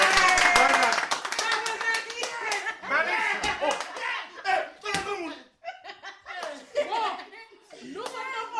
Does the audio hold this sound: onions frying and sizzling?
no